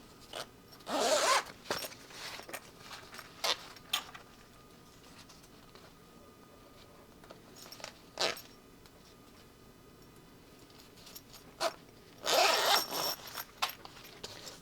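A zipper on a tech kit bag zips quickly several times in short bursts, close by, with quiet rustling and ticking handling noises in between.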